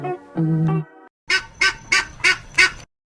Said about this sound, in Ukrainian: Гуска.